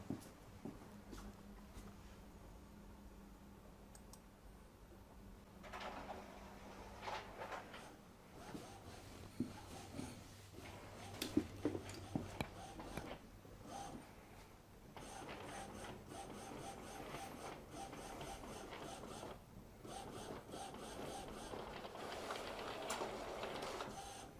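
An Epson WF-2110W inkjet printer, set up for sublimation printing, runs a nozzle test sheet with close mechanical whirring, clicking and carriage shuttling over about twenty-five seconds, without speech.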